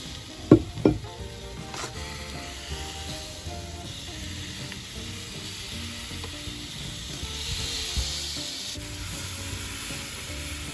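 Steaks sizzling on grill grates right after being flipped, a steady close hiss and fry with a couple of sharp clanks near the start, no voices.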